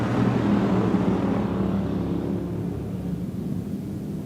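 Stock cars race at Off Road Speedway, the engines a loud, continuous roar that slowly fades as the pack pulls away, with no voices.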